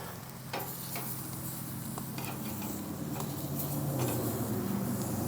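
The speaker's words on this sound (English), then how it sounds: "I'm gonna flip these things now." Burgers sizzle on a smokeless fire ring grill while a spatula scrapes and flips them. A steady close frying crackle runs throughout, with a few scraping taps and no talk.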